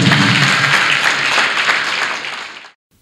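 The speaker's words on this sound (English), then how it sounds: "Clap for Jesus." Church congregation clapping for Jesus during a deliverance service, a dense, loud round of applause lasting under three seconds before cutting off abruptly.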